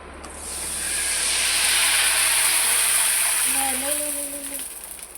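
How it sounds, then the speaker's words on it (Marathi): Kurdaya, Marathi fryums, frying in hot oil, a loud close sizzling hiss that swells up and holds steady before easing, with a voice speaking briefly near the end. "तर हे तळून घेते. तर ही बघा कशी फुगते आता."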